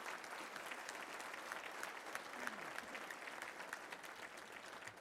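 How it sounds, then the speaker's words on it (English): A luncheon crowd at a touchdown club meeting gives a round of applause, steady dense clapping at a low, slightly distant level, with a faint voice briefly audible beneath it. "Let's give all of them a round of applause, if you will, right now."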